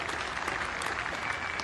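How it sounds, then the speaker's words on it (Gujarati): Dense, steady applause from a large crowd at Narendra Modi's speech in Bhavnagar, continuous and fairly loud throughout with no pauses. "લોકો ત્યારે તાળીઓ પણ પડી ગયા આટલા મોટા પ્રમાણમાં"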